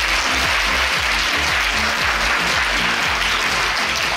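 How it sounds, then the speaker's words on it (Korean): A lecture audience at a national civil service training institute welcoming a professor with applause: loud, dense clapping heard alongside a strong low rhythmic music bed, unbroken and without talk. "정가림 교수님, 여러분 박수로 맞아주십시오"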